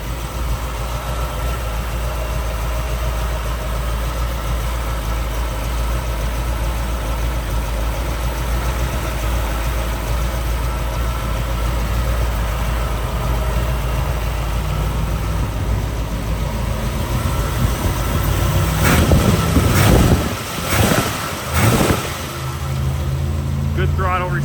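A 1968 Ford Mustang Fastback with a 289 two-barrel V8 and four-speed manual idles with a loud, steady, low rumble, then rises in a few sharp throttle blips near the end.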